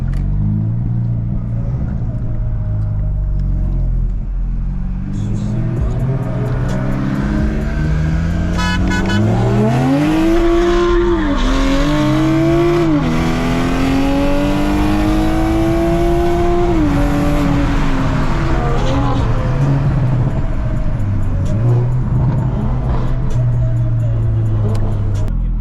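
A Hyundai Elantra N on 18-inch wheels accelerates hard with tires spinning, its engine revving and rising in pitch through gear changes, loud and close, with a roaring drone throughout.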